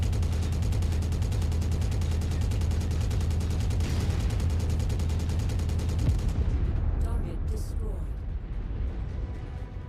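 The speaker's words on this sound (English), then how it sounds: "Meet my machine guns." A mech's machine guns firing at a tank in the video game Mechwarrior 5: Mercenaries: a loud, dense, unbroken rattle for about six seconds that then cuts off, leaving a fading rumble.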